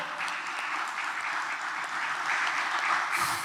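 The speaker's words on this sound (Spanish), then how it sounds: "Démele aplauso a Jesús." Congregation members in a church give Jesus a round of applause, a dense, even wash of many hands clapping at moderate volume for a few seconds before cutting off abruptly.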